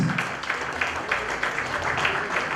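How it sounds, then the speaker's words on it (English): Applause at an award ceremony at a business conclave, a dense, steady patter of many hands clapping throughout, moderately loud, with no speech over it. "A big round of applause."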